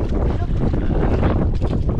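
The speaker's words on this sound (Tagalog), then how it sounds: "Lalong lumakas kasi yung hangin idol" Strong wind buffets a small fishing boat at sea, a loud continuous roar of gusts across the microphone with water noise beneath, no pauses throughout.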